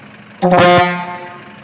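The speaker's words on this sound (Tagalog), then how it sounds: "Full blast kan, full blast. Oh, air horn, air horn." A single loud, brassy truck air horn blast on a Hyundai Porter 2, sustained for about a second before tapering off, sounding close by.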